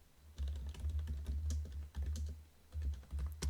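Computer keyboard typed at a quick, uneven pace, soft clicky keystrokes close by over a low steady hum, with brief pauses between runs.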